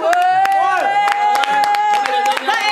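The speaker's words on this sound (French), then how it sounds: "On va applaudir." A film crew claps together on a short-film set, a run of sharp hand claps scattered across the moment under a loud, steady tonal whine, with voices chattering close by.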